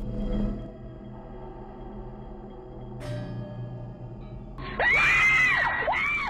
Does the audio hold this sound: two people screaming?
yes